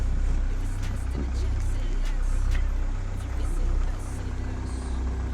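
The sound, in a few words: 2020 Mahindra Thar diesel engine idling after cold start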